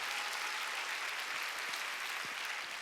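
A church congregation applauds in a steady, dense wash of clapping that carries evenly from start to finish, fairly soft and roomy, with no voices rising above it.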